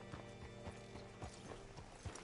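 Horse hooves clip-clop at a walking pace in the video game Red Dead Redemption 2, several distinct uneven steps with light tack rattles, fairly faint and close by.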